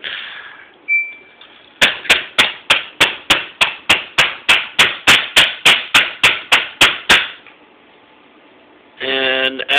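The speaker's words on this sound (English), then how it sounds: "whack it as the tray is closing and it will work" Repeated sharp knocks as an Xbox console is struck by hand while its disc tray closes, about sixteen evenly spaced loud thumps over five seconds, followed by quiet and then a brief mechanical whir.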